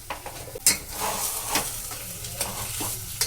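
A spoon stirs a potato mixture spiced with turmeric and salt in a hot frying pan, with scraping strokes over a constant close sizzle.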